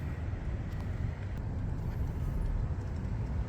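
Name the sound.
KTM 1190 Adventure motorcycle muffler exhaust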